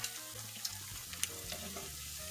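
Gluten-free jackfruit fish fritters fry in hot oil with a steady, soft sizzle and a few sharp pops and crackles, heard close up and without voices.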